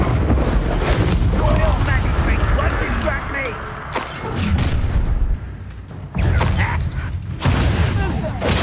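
Spell effects in the Hogwarts Legacy video game crackle and boom during a disarming-spell duel, with dense rumbling blasts, creaks and whooshes in close succession, a voice shouting the incantations over the clash.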